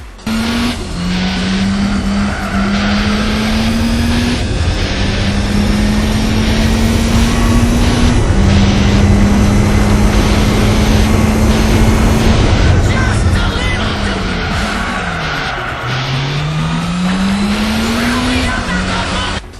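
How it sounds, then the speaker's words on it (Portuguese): Race car engines in Gran Turismo 4 on PS2, including a rotary engine, roar loudly and continuously, revving up through gear changes with rising and falling pitch. "Somente ouvindo o som do motor"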